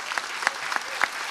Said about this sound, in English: let's give her a round of applause for our teachers